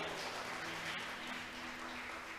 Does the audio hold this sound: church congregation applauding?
yes